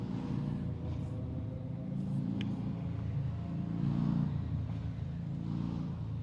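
Motorcycle engines pass on a road behind a baseball field during a game, a low droning rumble that swells and fades over several seconds, distant but steady under the open-air ambience.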